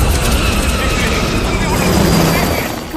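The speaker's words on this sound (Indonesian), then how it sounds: "Helikopter pun oleng dan langsung menabrak Sky Bridge." A helicopter losing balance in a film disaster scene from The Tower, a loud, continuous roaring rotor and engine rumble that fills the whole clip, with speech heard over it.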